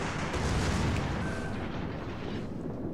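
Warship secondary guns firing in World of Warships, a continuous rumbling barrage of booms and blasts layered over each other, loud and sustained without pause.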